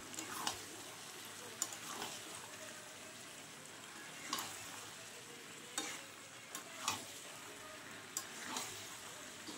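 Potato curry simmers and sizzles in a pot after hot water is poured in, a steady soft bubbling hiss broken by periodic scraping strokes of a spoon against the pan.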